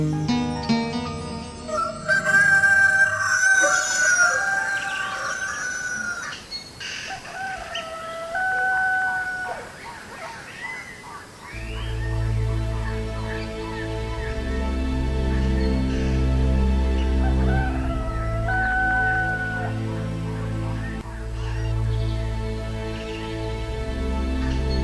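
A rooster crows several times in a rural night setting, its loud drawn-out calls rising over a low, steady musical drone and other bird sounds.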